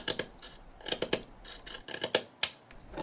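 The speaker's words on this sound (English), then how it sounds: "It blends in pretty well with the metal, even if it doesn't sound as delicious during the scratch test." Something is scraped across the metal side of a red iPhone 7 in a series of short, crisp scratching strokes that come in quick, irregular bursts, close and fairly quiet.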